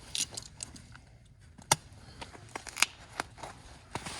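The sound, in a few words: cutting off the old broken end hook of a maple sap line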